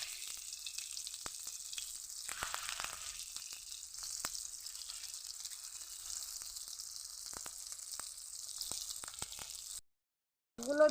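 Cauliflower fritters frying in hot oil, a steady close sizzle with occasional pops and a brief silent gap near the end.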